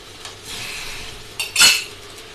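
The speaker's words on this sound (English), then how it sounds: "So stir that around." A utensil scrapes and stirs a caramelising chicken kadai base in a pan, soft scraping building to one sharper metallic clink near the end, with faint sizzling underneath.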